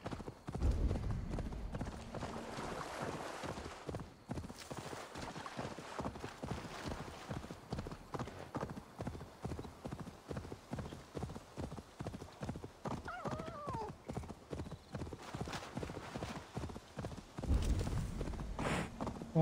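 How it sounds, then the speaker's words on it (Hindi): A horse gallops in the video game Assassin's Creed Valhalla, its hooves beating a fast, steady clip-clop rhythm for about twenty seconds. Occasional whinnies sound over the hoofbeats. "घोड़ा बहुत धीरे भागने वाला है"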